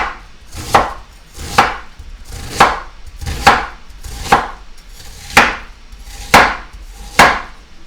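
A knife cutting a chicken wrap in half on a board, eight firm evenly spaced chops landing close and loud, one roughly every second, with no speech.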